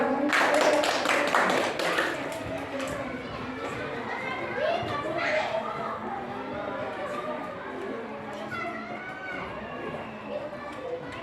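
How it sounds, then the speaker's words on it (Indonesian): Primary school children in a classroom clap their hands in a quick, sharp burst for the first couple of seconds, then the room fills with children chattering and moving about. "Tepuk tangan untuk kalian semua."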